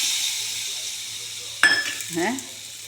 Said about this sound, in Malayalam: ഇപ്പം ഞാൻ എൻ്റെ ചുണ്ടങ്ങ ഈ കറിയിലേക്ക് ഇങ്ങനെ ആഡ് ചെയ്യും